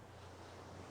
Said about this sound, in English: It uses waves because the ocean is important to them.